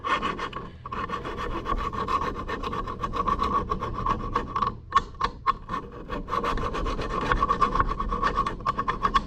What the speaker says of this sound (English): And you can even scrape, and that helps get the buildup out of it.